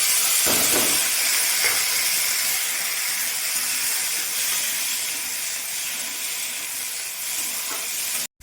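Cauliflower frying in a pan as carrot and beans go in, giving a steady, hissing sizzle close by that holds for several seconds before cutting off abruptly.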